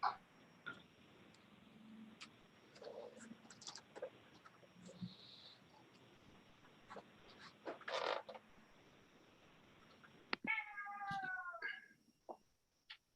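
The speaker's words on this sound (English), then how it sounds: "Kitty cat?" A cat meows in a quiet room, a short series of rising and falling cries near the end, with scattered soft knocks and rustles before it.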